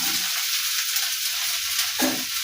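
Green beans added to fried onions in a kadai give a steady close sizzle, with a low thump and brief scrape near the end.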